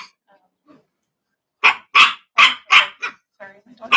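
A pet dog barks repeatedly indoors at a wedding gathering, a rapid series of five or six sharp, loud barks close by after a quiet stretch, with a faint voice mixed in.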